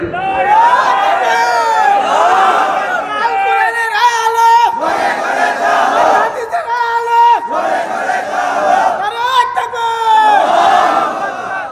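A crowd at a Bengali religious gathering roars takbir, Allahu Akbar, in loud repeated chanted waves. A lead voice calls out and the crowd answers several times in a rhythmic call-and-response, close and full.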